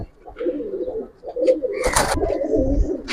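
Giribaz pigeons at a pigeon farm coo in close, repeated throaty phrases, with a brief rustle or flap midway.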